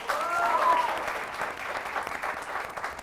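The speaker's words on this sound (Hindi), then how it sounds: "जोरदार तालियां" Loud crowd applause at a Haryanvi entertainment show, dense and sustained for about three seconds, swelling early and then easing slightly, with a faint voice or tone briefly showing near the start.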